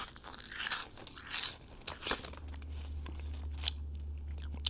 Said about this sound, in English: let's go ahead and give this a big old crunch